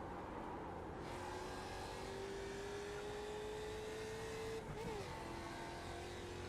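Ford Mustang GT3 race car engine at Sebring, a distant, faint raspy drone holding a steadily rising pitch and then shifting briefly, under a constant wash of background noise.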